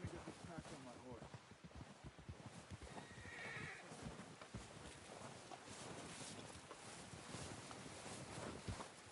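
A horse whinnies and hooves clip-clop steadily beneath someone talking, with ambient outdoor game sounds throughout, in Red Dead Redemption 2.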